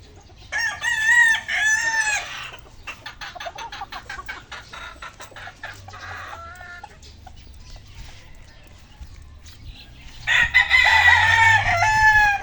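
Gamefowl rooster crowing loudly and close, once at the start and again near the end, with softer clucks and rustling in between.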